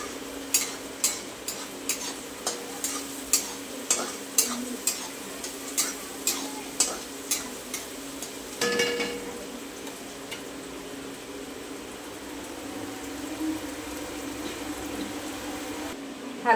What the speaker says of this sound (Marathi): कांद्याला थोडं परतून घेऊया